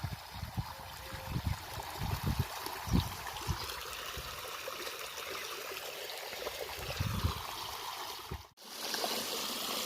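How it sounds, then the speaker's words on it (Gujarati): Irrigation water from a pump pours and trickles into a field bed planted with onions and carrots, a soft continuous gurgle close by with occasional louder splashes. "તો જો આ બીજા ત્યારામાં અત્યારે જાય પાણી"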